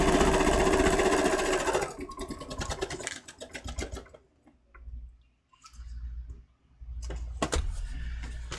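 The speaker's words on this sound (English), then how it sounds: "on this side, I'm just going to sew this in." Sewing machine stitching a quilt, a loud, steady mechanical whir for about two seconds that slows into a rapid stitch-by-stitch chatter, then stops and restarts in short bursts separated by quiet gaps.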